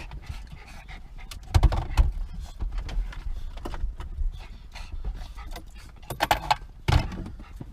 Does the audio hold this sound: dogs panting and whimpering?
yes